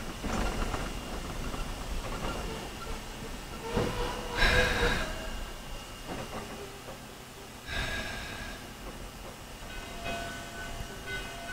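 Virginia and Truckee Railroad train ride, with a steady rumble of the rolling car and track noise throughout, plus a brief louder hiss or horn burst around the middle and swells of wheel and wind noise.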